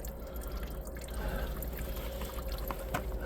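Diesel fuel dribbles faintly into a bucket while air is bled from a John Deere fuel system: a soft, uneven trickle with occasional drips under a low background hum.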